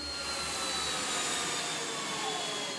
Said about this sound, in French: L'avion arrive, on peut y aller.